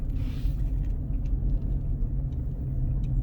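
Steady road rumble from cars stuck in a traffic jam near construction on the way to a mall, a dense, even drone with no individual horns and no voices.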